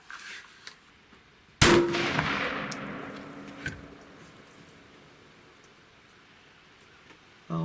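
A deer rifle fires once while being sighted in, a sharp loud crack that rings out and decays slowly over several seconds, followed by a faint click and quiet surroundings.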